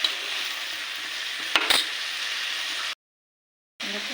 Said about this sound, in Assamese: আমি ভাজি থাকোঁ।